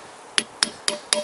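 Four sharp, evenly spaced metal hammer blows ring out close by while a Toyota VVT-i engine part is knocked free, with quiet gaps between strikes.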